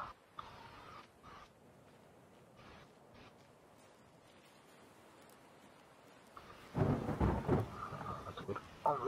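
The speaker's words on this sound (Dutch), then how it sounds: "Het weer onweer." Thunderstorm with low thunder rumbling in the distance, quiet at first, then a loud close crack and roll near the end over steady rain, with no talk.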